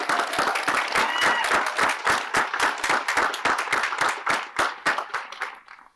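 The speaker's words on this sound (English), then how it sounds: "I'd like to also offer a round of applause for all those staff members" A commencement audience at Oxford College of Emory claps steadily in honour of staff members, a dense, loud round of applause sustained throughout before thinning and fading out at the very end.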